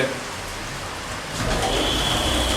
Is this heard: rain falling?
yes